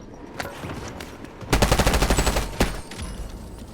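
A rapid burst of automatic gunfire rattles out in a shooter video game, about a dozen close, loud shots in quick succession, followed by a sharp single report and lighter scattered fire.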